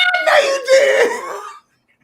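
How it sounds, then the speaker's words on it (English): A man coughs and sputters in a couple of harsh, strained bursts while choking, close to the mic, before falling silent. "That ain't COVID cough"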